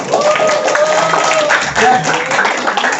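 Hands clapping in a classroom, a short burst of applause from students that blends with talking voices over about three seconds, fairly loud and close.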